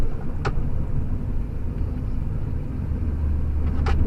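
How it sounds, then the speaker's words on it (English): A Ford F-250's snow plow cutting edge scrapes across a parking lot, a loud steady low rumble and grind from the truck and blade, broken by two short sharp scrapes. "we are just running the cutting edge. It'll wear the cutting edge a lot more, but it lets us scrape it a little bit cleaner"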